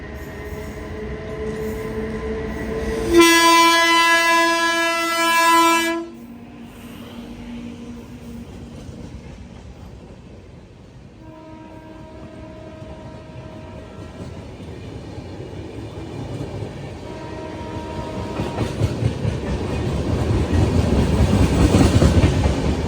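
The Lingampalli–Visakhapatnam Janmabhoomi Express passes close by during an overtaking, opening with a loud multi-tone horn blast, then rhythmic wheel clatter and rumbling that grows louder toward the end.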